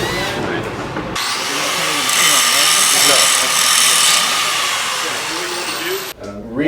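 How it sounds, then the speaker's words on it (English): Angle grinder grinding metal and throwing sparks, a loud, sustained high-pitched whine that starts abruptly, holds steady for about five seconds and then cuts off. "I'm going to be using the angle grinder, which is just a grinder that spins and grinds metal and throws a bunch of sparks"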